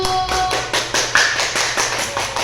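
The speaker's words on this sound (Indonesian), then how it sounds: "kita berikan tepuk tangan untuk kelompok 1" A short burst of hand claps from a small group in a classroom, uneven but continuous, fairly close and fading slightly toward the end.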